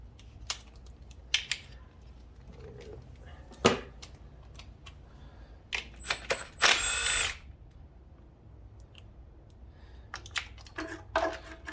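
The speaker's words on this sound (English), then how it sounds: "Now we can start taking all the bolts off." Bolts coming off a Mini Cooper valve cover with a power tool, short whirring bursts and clicking metal taps in irregular spurts, with a longer run near the middle, fairly close and without talk.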